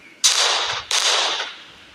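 Two sharp, loud blasts from a bomb attack in the Indian Bike Driving 3D video game, the first at the start and the second about half a second later, each with a broad crackling decay.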